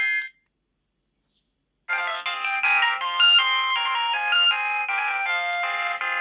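A Motorola C350 mobile phone plays its ringtone, a short electronic beep followed after a pause by a continuous polyphonic melody, clear and close with no talking.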